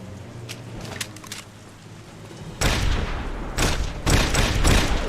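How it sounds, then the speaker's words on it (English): Steiner rifle fire in The Saboteur video game: loud bursts of rapid gunfire erupt after quieter clattering, two or three sustained volleys close by. "Steiner rifle."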